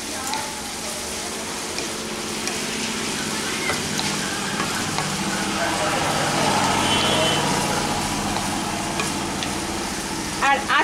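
Soybeans tossed with vegetables in a hot pan sizzle loudly and continuously while a spoon stirs and scrapes them, close up, with a couple of sharper knocks at the end.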